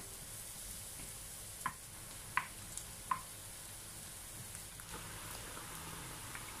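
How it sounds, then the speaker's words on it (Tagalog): Onion sautéing in two tablespoons of cooking oil, a soft steady sizzle with a few sharp spatters and clicks of stirring, close but quiet. "saka po natin gigisahin muna ang ating sibuyas"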